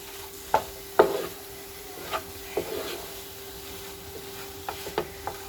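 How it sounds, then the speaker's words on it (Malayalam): Potato is mixed into a Kerala-style fish cutlet mixture by hand or spoon, giving a handful of soft, irregular scraping and squishing strokes over a faint background hum. No one speaks. "ഈ ഉരുളക്കിഴങ്ങ് ഇതിനകത്ത് നമുക്ക് യോജിപ്പിക്കാം."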